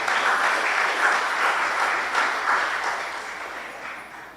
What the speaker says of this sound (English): please put your hands together and give a lusty round of applause